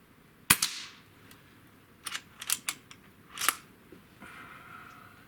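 A JTS Brawn shotgun fires one sharp shot at a target, followed by a few mechanical clacks and rattles, all fairly muted.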